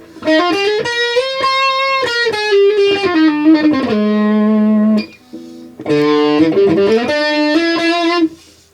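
Electric guitar through a Boss OD-200 overdrive pedal, loud sustained distorted notes and chords in two long phrases separated by a short pause, played alone without talk.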